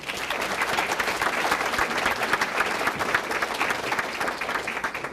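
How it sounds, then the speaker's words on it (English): A room of guests at a volunteer appreciation celebration in Kirkland gives award recipients a sustained round of applause, steady close clapping from many hands lasting about five seconds. "please join me in a round of applause for all of our Leadership Award recipients"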